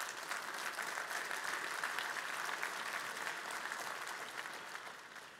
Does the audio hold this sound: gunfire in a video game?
no